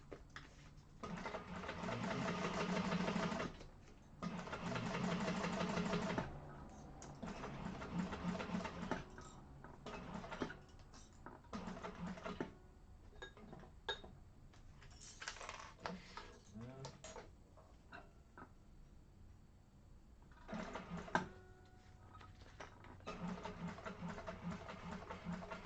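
A sewing machine stitching a triangular piece of an Edina zipper bag in a sewing class, bursts of fast rhythmic whirring with short pauses and backstitching, close, with some talk now and then.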